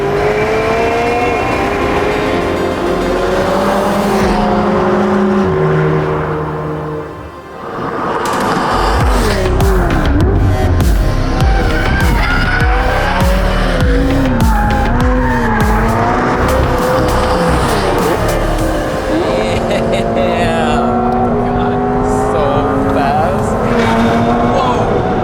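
A 2021 McLaren 720S supercar drives hard, its engine roaring loudly and rising and falling through gears, with tires squealing through corners, while people talk inside the car.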